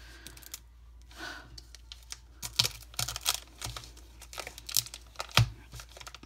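Plastic wrapping on a K-pop album crinkles and is torn open nearby, giving sharp, irregular crackles and rips that grow denser and louder after a quieter start.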